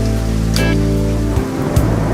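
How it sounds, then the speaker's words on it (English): Steady rain falling outdoors at a junkyard, a loud constant hiss of drops on surfaces close by, with a couple of brief sharper knocks. "it's raining right now, but we're fine"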